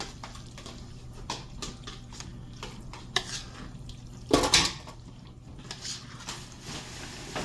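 A spoon scrapes and clanks against a pot while stirring cheesy chicken spaghetti, with repeated close, soft knocks and one louder clatter in the middle.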